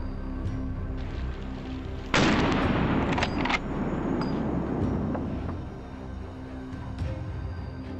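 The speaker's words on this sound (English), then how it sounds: "A dry, sharp gunshot breaks the stillness." A single sharp rifle gunshot during a wild boar hunt cracks loudly from close range, followed by a brief rumbling decay and a couple of fainter knocks over steady outdoor background noise.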